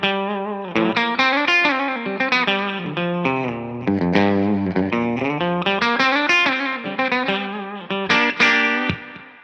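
A clean electric guitar, a PRS Special Custom semi-hollow, plays a flowing melodic phrase with ringing chords and single notes, close and steady, with a slight shimmering effect.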